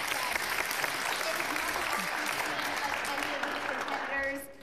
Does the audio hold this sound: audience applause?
yes